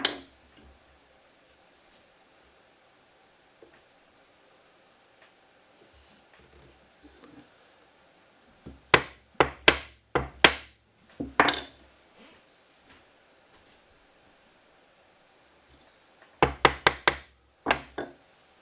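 A chisel is tapped into wood to set it while making a mash paddle, heard as sharp, close knocks in quick bursts of four or five, with quiet stretches of faint handling noise between the groups.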